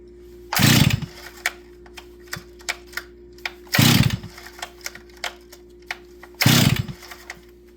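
A chainsaw engine with the choke pulled on gives three loud, short bursts as it is pulled, each separated by quieter clicks and rattles, close by with no talking.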